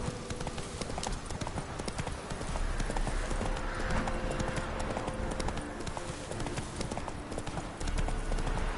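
Roach the horse trots in The Witcher 3, with a quick, steady clip-clop of hooves close by over a dense outdoor game ambience.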